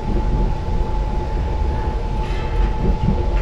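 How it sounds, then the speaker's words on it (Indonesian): Taksaka passenger train rolls slowly across the Glagah bridge, a steady, loud rumble with a constant tone and faint rattling throughout, no voices. "Kereta api taksaka tambahan melintasi jembatan Glagah dengan kecepatan maksimal 25 km"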